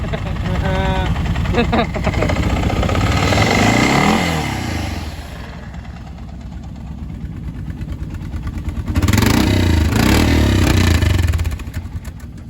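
A Honda Rancher ATV engine runs close by, its uneven idle and revving rising and falling, easing off midway and then returning louder, with people talking over it.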